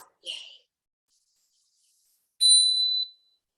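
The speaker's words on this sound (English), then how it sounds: "So I have these gorgeous bells, and we're going to use this to just clear some space." Small bells ring out in a calm indoor space-clearing ritual: a brief jingle, a pause, then a single clear bell tone that sustains and fades.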